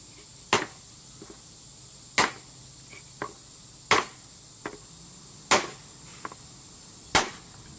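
Sharp metallic hammer blows on aluminum through a block of wood strike at a slow, steady pace, about every one and a half seconds, with softer taps between them and a faint background hum.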